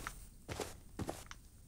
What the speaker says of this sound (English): Ah, we have footsteps.